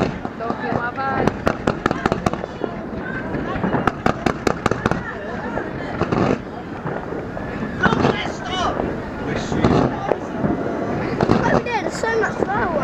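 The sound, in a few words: New Year fireworks at Greenwich, London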